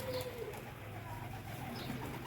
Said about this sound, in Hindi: ये आ गया कबूतर, वो गया,